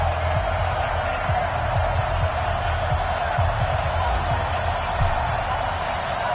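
Stadium crowd in an NFL football video game before a Houston Texans home matchup, a steady dense roar that never lets up, with a commentator's voice running over it.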